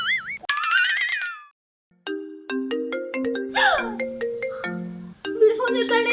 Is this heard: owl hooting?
no